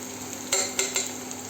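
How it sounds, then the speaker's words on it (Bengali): Onions with half a spoon of salt frying in a pan, a soft sizzle broken by three quick scraping stirs of a spoon. "পেঁয়াজটা একটু মজে যাওয়ার জন্য আমি এখানে হাফ চামচ মতো লবণ ব্যবহার করছি।"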